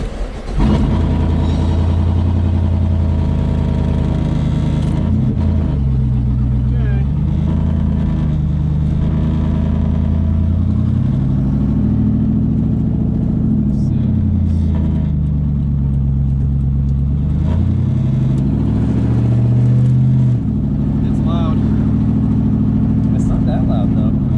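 An LS V8-swapped Jaguar XJ-S cruises through a residential area, its engine note a low, fairly subdued drone that rises and falls with each shift and acceleration, with people talking over it inside the car.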